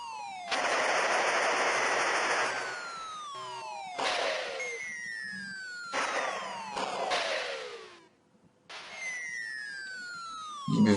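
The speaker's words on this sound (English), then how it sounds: "they seem to fire bullets a lot quicker as well" Rapid bursts of machine gun fire from the Beach Head video game, loud and chattering, repeated in several volleys, each followed by falling whistling tones, with no talking.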